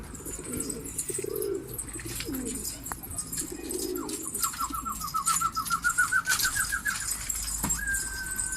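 Pigeon on a rooftop, with wing flaps and cooing, a rapid rising series of tonal notes midway and a sharp whistle near the end, heard close amid scattered rustles.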